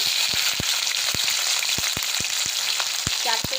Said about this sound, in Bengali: আদা বাটা দিয়ে দিলাম টমেটো দিয়ে দিলাম